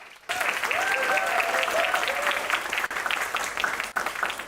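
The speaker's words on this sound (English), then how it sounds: "So big round of applause to the trustees." An audience at an institute's campus media agency launch in Mumbai breaks into loud, sustained applause that starts abruptly and carries on evenly with a few cheers mixed in.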